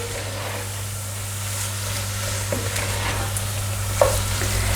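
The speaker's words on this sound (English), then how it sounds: "And now we can add our tomatoes in. All of them go straight in. Give everything a good mix." Tomatoes stirred into a frying minced-meat keema mixture on a gas hob: a soft, continuous sizzle under a steady low hum, with a single clack of the spoon near the end.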